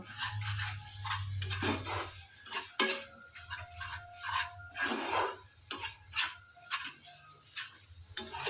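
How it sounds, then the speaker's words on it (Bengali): Spices for a prawn curry are stirred in a pan, and a spoon scrapes and taps the metal again and again in an irregular rhythm. Faint background noise runs steadily underneath, with no talking. "এরপর সব একসাথে ভালো করে কষিয়ে নেব"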